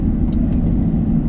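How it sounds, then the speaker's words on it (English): A 2019 Lincoln Nautilus engine hums with a steady low rumble heard from inside the vehicle, moderately loud and continuous through the short stretch. "It revs a little higher than I thought it would for being a 2019 vehicle"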